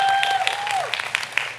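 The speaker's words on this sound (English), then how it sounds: "give yourselves a well-deserved round of applause" Graduates clap for themselves at a community college commencement in a short, scattered burst, with individual claps standing out over a faint tone.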